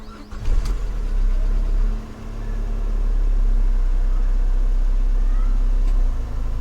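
A Peugeot 406 engine idles steadily with a low continuous hum while the faulty air-conditioning compressor clicks in early and settles into the running drone.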